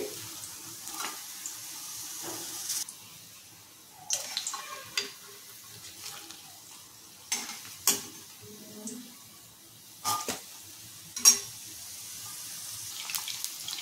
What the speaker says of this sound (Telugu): ఒకసారి వేగిపోతాయండి అన్ని కాకరకాయలు కూడా